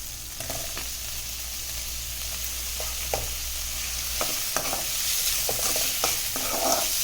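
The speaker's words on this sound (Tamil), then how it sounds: "இப்போ வெங்காயம் போட்டுக்கலாம்" Onions sauté in oil for a chicken curry, giving a soft, steady sizzle broken by several distinct scraping and clinking stirs of a spatula against the pan, with no talk.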